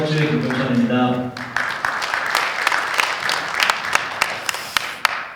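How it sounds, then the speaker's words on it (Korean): An audience at a CBMC regional federation presentation breaks into applause right after someone speaks, with lively crowd clapping and a few sharp, distinct claps standing out as it continues. "다시 한번 우리 큰 박수 한번 부탁드리겠습니다."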